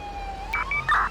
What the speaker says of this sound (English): Sitting here with his fucking siren on too, that's weird.